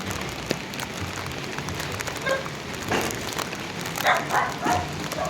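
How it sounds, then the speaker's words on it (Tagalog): Steady broadband hiss of heavy rain pouring down, with a dog barking a few times nearby over the downpour. "Grabing ulan guys."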